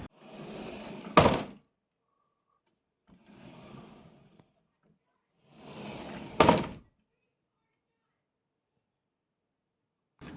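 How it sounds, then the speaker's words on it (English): A sliding door in a home slams shut against a 3D-printed finger guard, each slide ending in a sharp, loud thunk, twice in a row with a quieter rolling slide between them, then silence. "And I'll show you a few times of me slamming the door and hopefully not waking up the kiddos."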